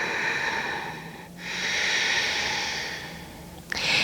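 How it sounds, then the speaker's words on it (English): Ujjayi yoga breathing through a contracted throat, two long, close, airy hissing breaths with a soft ocean-like rasp, separated by brief pauses, alone without talk. "We will use the Ujjayi breath."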